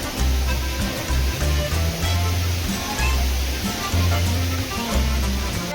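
Neer waterfall near Rishikesh roars loud and close, a dense, continuous rush of falling water with low rumbling gusts underneath and no clear speech.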